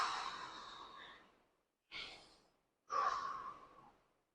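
Three slow, deep breaths taken during a neck stretch, each a long airy exhale or inhale separated by brief pauses, close and soft with no talking.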